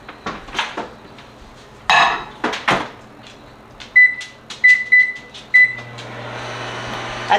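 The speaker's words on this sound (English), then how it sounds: "now this is gonna go back in the microwave for a minute because it's already cooked" Already-cooked food goes back into a kitchen microwave for a minute: clattering dishes and a door knock, a string of short electronic beeps, then the steady low hum of the oven running. No speech.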